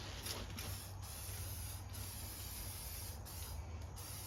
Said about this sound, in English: I'm going to just spray a bit of CRC in there just to help corrosion down the track.